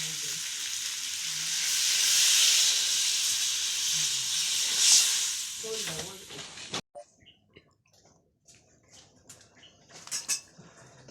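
Water hits a pan of chicken curry cooking in a village kitchen, giving a loud, steady sizzling hiss that fades, then cuts out abruptly, leaving faint scrapes and clinks of a utensil with scattered talk.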